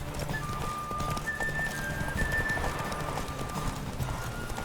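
Hooves of Roach, a horse in The Witcher 3, clip-clop steadily at a gallop with a brief whinny, loud and continuous over a game background with faint tonal music.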